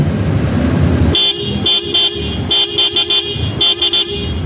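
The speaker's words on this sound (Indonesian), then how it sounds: "ini klaksonnya" A motorcycle double horn wired through a 4-pin relay honks in a rapid series of loud close blasts, several short toots after a steady idle-like hum, no talk.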